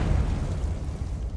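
A Confringo spell in Hogwarts Legacy detonates as a short, low, muffled blast that fades quickly, moderately quiet and heard alone.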